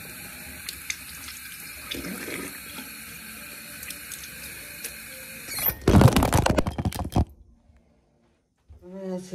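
A bathroom tap runs at a steady hiss for several seconds, then water splashes loudly and unevenly as hair is washed under the stream, before a short pause and a fresh burst of water.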